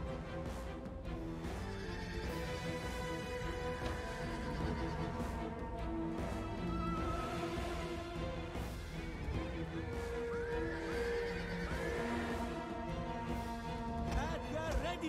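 Horses neigh and whinny repeatedly amid the din of a Total War: Rome 2 battle, with clip-clopping hooves, music and clashing noise throughout and a voice talking over the top.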